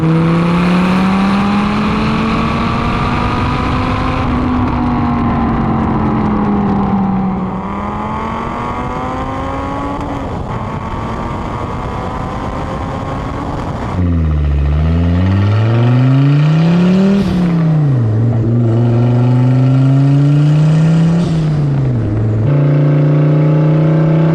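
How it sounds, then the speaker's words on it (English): A big-turbo Volvo 850R wagon's five-cylinder engine revs loudly and close, holding a steady drone, then dropping and climbing through several sharp sweeps with no voices over it. "the 5-cylinder makes this noise that's like a hybrid between a Viper, a Lambo, and something else I can't put my finger on"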